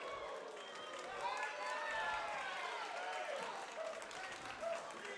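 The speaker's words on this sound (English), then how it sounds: "You can hear it in the reaction from this crowd." Live crowd at a West Coast Pro wrestling show in a packed arena, a steady wash of cheering and clapping that swells and holds for several seconds, with shouts rising out of the roar.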